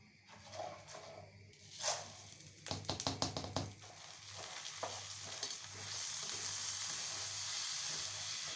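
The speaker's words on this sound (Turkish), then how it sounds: "Şimdi şehriyelerim kavrulsun." Vermicelli toasts in butter in a pan, with gentle clinks and scraping stirs, then a quick clatter as rice is poured in. A soft, steady sizzle builds afterward, quiet and close, with no talking.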